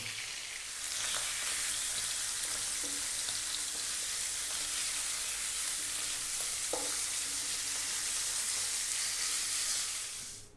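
Safi fish frying in oil in a pan, a steady, dense sizzle with a soft hiss running the whole time, plus a couple of faint clinks from the pan. No one speaks.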